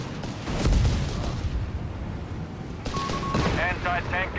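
Anti-tank gunfire in the strategy game Company of Heroes 3, armor-piercing rounds fired at a Panther tank: a heavy booming shot with rumbling battle noise, then more distant blasts and whistling effects, over a continuous wash of game sound.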